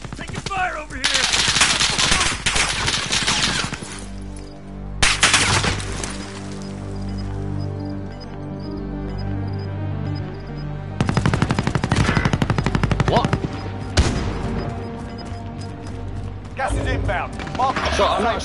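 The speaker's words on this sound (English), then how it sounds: "Taking fire over here!" Automatic gunfire rings out in a tactical multiplayer shooter video game, loud bursts spread across the clip with short pauses, alongside teammates calling out over voice chat.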